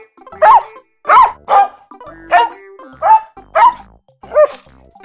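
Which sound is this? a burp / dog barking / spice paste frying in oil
dog barking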